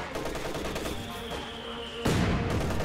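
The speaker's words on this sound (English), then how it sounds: "Pretty decent mortar hits." Mortar shells landing in a WWII strategy video game, a continuous rumble of distant explosions and gunfire swelling into a louder blast near the end.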